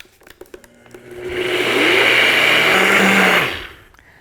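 A countertop blender grinds oats into fine oat flour, spinning up from a few clicks into a loud, steady whir for about two seconds before cutting off; no one speaks.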